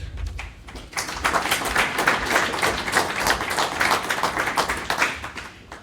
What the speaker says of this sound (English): A warm applause for Éric.